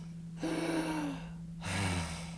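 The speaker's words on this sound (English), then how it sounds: "why don't you take a deep breath?" A person takes two deep breaths, a long audible inhale followed by a second breath about a second later, soft and close with a steady low hum underneath and no talking.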